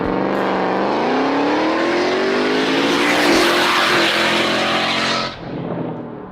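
Custom truck with a very loud aftermarket exhaust, revving hard close by: a sustained, rising engine roar that holds for several seconds, then cuts off abruptly and drops to a lower rumble.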